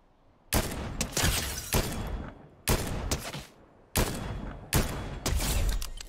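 Gunshots in a video game, several loud, sharp blasts and short bursts in quick succession with brief gaps between volleys.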